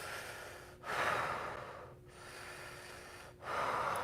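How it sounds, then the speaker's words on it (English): Slow, deep breathing during a reiki session: two or three long, audible inhales and exhales close to the microphone, with brief pauses between them and no talking. "And deep breaths."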